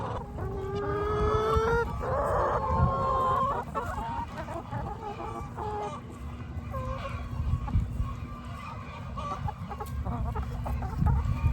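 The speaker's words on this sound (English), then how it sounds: "they all kind of changed their like cluck up a little bit" Chickens cluck throughout with some rooster-like calls, fairly close and steady, as a flock heads back during a solar eclipse, over a constant low hum.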